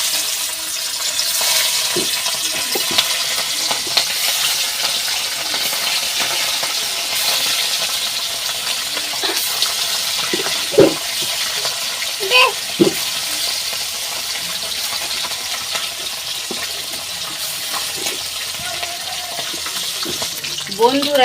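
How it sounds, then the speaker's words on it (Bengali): Small morola fish fry in hot oil for a village-style curry, giving a steady, close sizzling hiss throughout, broken by occasional clinks and scrapes of a utensil stirring in the pan. "মাছগুলো ভেজে নেব এইবারে।"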